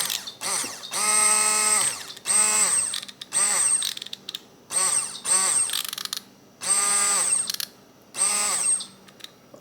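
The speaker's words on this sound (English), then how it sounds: "So we'll take our immersion blender. It's on. Let's listen to it first though." An immersion blender running at speed 9 while making strawberry ice cream, giving repeated whirring bursts with rising and falling motor pitch and a high whine, each lasting about a second with brief pauses, close and without speech.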